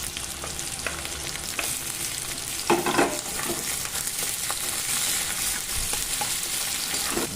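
Capsicum pieces, onion and green chilli sizzle and crackle in hot oil in a pan for chilli paneer, a close, steady frying hiss with a louder burst of stirring partway through.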